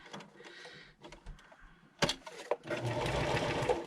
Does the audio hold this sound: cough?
no